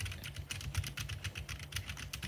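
Fingers type rapidly on a computer keyboard at a PC desk, a close, continuous run of crisp key clacks with steady rhythm and no talking.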